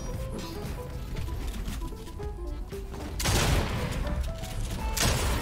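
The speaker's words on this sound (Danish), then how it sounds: "der er to, der skyder" Gunfire in a Danish-played survival shooter game, heard as dense bursts of shots in a sustained fusillade over background game noise, loudest toward the end.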